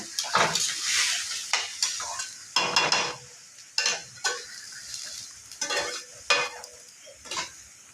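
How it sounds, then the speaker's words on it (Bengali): Rice for pulao is stirred in a pot with a spoon, a series of scraping, rustling strokes in irregular bursts separated by brief pauses, close and moderately loud with a soft sizzle beneath. "এখন অল্প আমি নাড়িয়ে ঢাকা দিয়ে দেব।"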